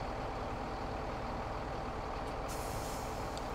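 A heavy tow truck in Farming Simulator 17 gives a sharp air-brake hiss release near the end over a steady loud engine drone.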